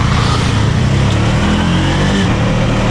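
Rented tuk-tuk pulling away on a road, its small engine droning loud and steady with continuous rumble close by, no talking.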